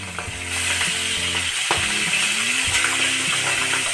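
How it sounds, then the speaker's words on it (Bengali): Pabda fish frying in hot oil, a dense loud sizzle with crackles and sputtering spits, steady throughout with some faint low tonal sound underneath. "মাছগুলো একটু সাবধানে ভাজবেন এই মাছ কিন্তু খুব ফোটে"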